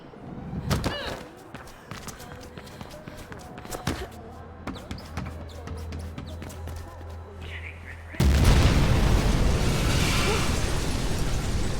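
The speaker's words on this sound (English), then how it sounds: "Big explosion over here!" A large explosion in the video game Mirror's Edge Catalyst: after scattered sharp impacts and pops, a loud broadband blast bursts in and rolls on as a sustained roar, with voices talking in the mix.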